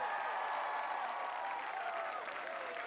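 A stadium crowd at the American Ninja Warrior Dallas finals applauds and cheers steadily, a dense, continuous roar of clapping and voices that holds loud for several seconds.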